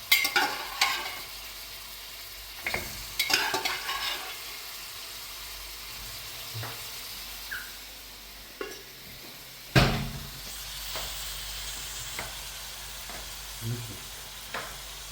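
Cooked beef is stirred into masala frying in coconut oil with spicy dry red chilli, giving a soft steady sizzle under intermittent scraping clanks of a spoon against the pan, up close.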